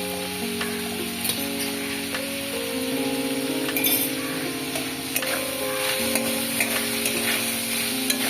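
Garlic, ginger, clove and cinnamon spice paste fries steadily in a hot pan, a continuous close sizzle with occasional stirring scrapes and light clinks against the pan, with no talking.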